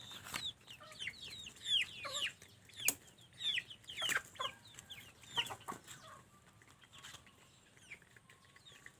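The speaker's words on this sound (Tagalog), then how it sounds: "huwag mo nang agawan itong manok ko" Quiet clucking and peeping from a few chickens, scattered calls with occasional sharp clicks, fading toward the end.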